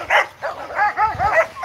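A dog gives a rapid string of close, loud yips and short barks with a whiny edge, four or five in quick succession.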